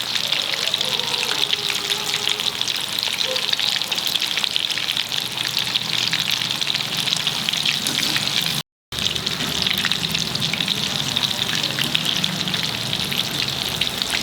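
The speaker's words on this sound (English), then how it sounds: "Fry it on medium flame only." Fish fingers frying in oil over a medium flame give a steady, loud, dense crackling sizzle that runs through the whole stretch, with a very brief break partway through.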